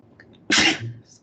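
A single sharp sneeze bursts out close by, brief and loud, followed by a soft exhale.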